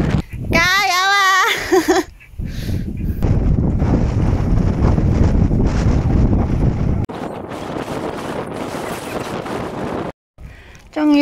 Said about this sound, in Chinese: 哇，好大风啊！